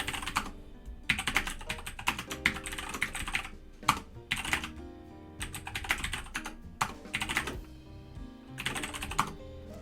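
Rapid typing on a computer keyboard during a web development coding session, bursts of close, crisp key clicks separated by short pauses, no voice.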